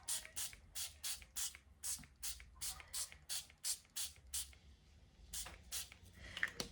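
Small, cheap crackle-effect spray cans being sprayed in a quick series of short, sharp hissing bursts, about a dozen in a row with brief gaps between them, close and fairly quiet.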